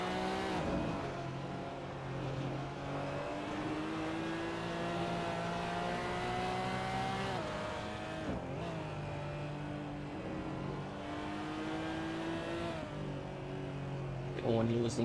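GT4 race cars, Porsches and Maseratis, lapping Sportsland SUGO in a sim racing game: several engines drone and rise through the gears, with shifts and a steady layered roar, with a voice talking over them.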